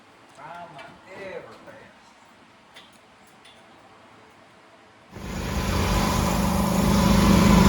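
Ford Falcon on its first real drive after a five-week rebuild from the rotisserie. Voices chat quietly at first, then a loud, steady engine and road roar abruptly takes over and keeps building.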